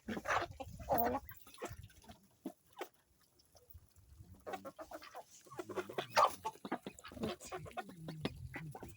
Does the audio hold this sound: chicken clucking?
yes